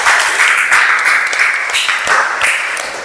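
Applause from a classroom group of students, brief and fairly loud, with dense clapping swelling in a few uneven waves over about three seconds.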